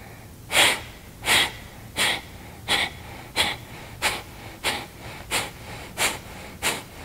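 Deep, slow breaths during a seated chair yoga session, about ten strong rhythmic inhales and exhales in steady succession, close and clear with no talking.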